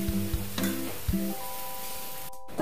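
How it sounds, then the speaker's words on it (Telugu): Brinjal curry with tomatoes being stirred in a sizzling pan: a few soft scraping strokes near the start over a low, steady fry, with a steady hum running through and a brief dropout near the end. "మళ్ళీ కలపాలి."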